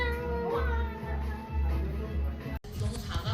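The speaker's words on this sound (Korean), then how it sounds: "고양이야 옹" A cat meows in a few repeated calls close by, heard during a family trip to Tsushima, with a steady low rumble running underneath.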